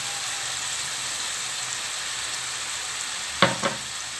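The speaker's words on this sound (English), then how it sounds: "Now we'll add tomato. We'll add a tablespoon of mint." Tomato and a tablespoon of mint go into a hot pan for a meatball dish, with steady loud frying sizzle throughout and a brief clatter of stirring near the end.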